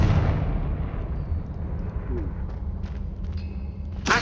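A Confringo blast spell explodes in the Hogwarts Legacy video game, a deep rumbling boom that rolls and slowly fades over several seconds, with faint clicks and a brief sharp sound near the end.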